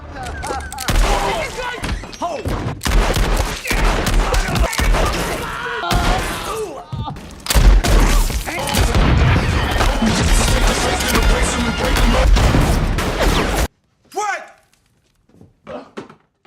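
Gunshots from a film gunfight ring out amid a dense, loud din of crashing impacts and shattering, with voices mixed in, before cutting to near silence and a few scattered faint sounds.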